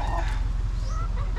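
Talisayin gamefowl, a hen whose feathers are just growing back after molting, clucking softly and steadily close by among other barnyard sounds.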